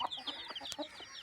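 Chickens cluck softly in a short burst of quick, faint clucks and chirps from hens and small chicks.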